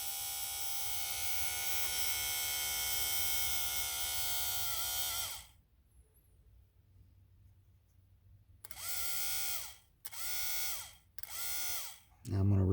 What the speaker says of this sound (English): you should be able to see the worm gear start spinning right in there when I hook up the other lead